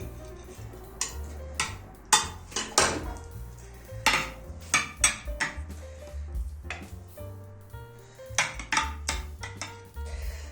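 Plates and cutlery clink as plump oven-baked Turkish meatballs are lifted onto a serving dish, a series of sharp, close ceramic and metal knocks arriving in irregular clusters with short quiet gaps between them.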